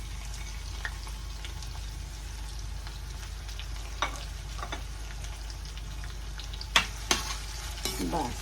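Thinly sliced onions fry in oil in a pan with a low, steady sizzle, broken by a few sharp stirring knocks and scrapes near the end, quiet overall with no talking.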